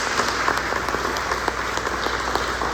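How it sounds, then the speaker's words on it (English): A roomful of people clapping for food bank agency partners at a Stark County campus celebration, steady dense applause filling the whole stretch with no speech over it. "could you just raise your hand and let us give you a round of applause?"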